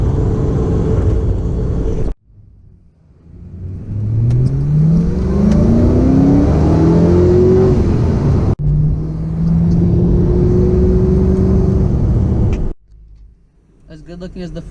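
A 2006 Ford GT sports car engine revs up and down in long rising sweeps, a steady mid-pitched roar between short quiet pauses, with a voice talking in places.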